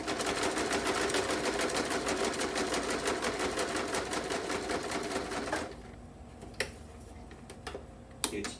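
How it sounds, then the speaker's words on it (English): A home sewing machine running a straight stitch, rapid even clicking for several seconds before stopping abruptly, followed by a few isolated ticks and clunks of the mechanism, close and fairly quiet. "I'm trying to learn how to use my sewing machine"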